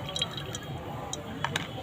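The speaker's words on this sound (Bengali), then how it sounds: "কচুরির পুরের জন্য দিয়ে দিলাম একটু তেল" Cooking oil is poured into a pan for a kachori filling, producing a faint, brief liquid trickle with a few soft drips over steady kitchen background noise.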